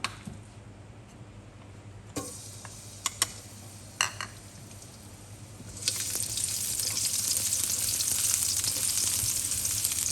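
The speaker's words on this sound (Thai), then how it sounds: "เราจะเจียวกระเทียมให้หอมก่อนค่ะ ใส่น้ำมันลงไปสักเล็กน้อย" Garlic fries in a little oil for a pomfret and celery stir-fry, quiet at first with a few clicks and taps, then a louder steady sizzle takes over for the last few seconds.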